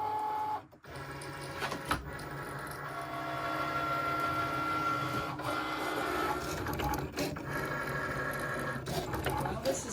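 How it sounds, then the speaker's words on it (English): A Cricut cutting machine slices removable vinyl for personalized glass mugs, giving a steady mechanical whir with carriage movements and short shifts in pitch. It runs close and continuously throughout, with a brief dip near the start. "And my Cricut is ready to go. I'm gonna click on vinyl and we're going to start cutting this out."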